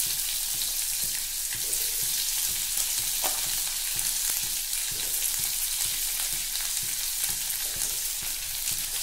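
Green chillies and onion fry steadily in a hot pan, a dense continuous sizzle with faint stirring scrapes throughout, close and alone without voices.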